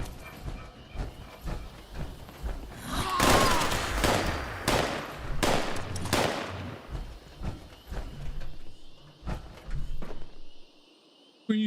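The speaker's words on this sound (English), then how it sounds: "somebody's still shooting at something over there" Gunfire in the video game Fallout 76: bursts of rapid shots and single cracks, some loud and near and others farther off, scattered over a constant game background.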